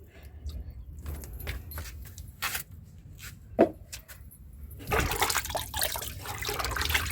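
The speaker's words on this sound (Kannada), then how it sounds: "ಗಿಡಗಳಿಗೆ ನಾವು ಈ ನೀರನ್ನು ಹಾಕಬೇಕು. ಈ ನೀರನ್ನು ಹಾಕುವಾಗ" Water mixed with thinned, soaked oil cake fertilizer is poured onto hibiscus plants. Quiet handling noises come first, then a steady, close rushing splash of liquid runs on, with no speech.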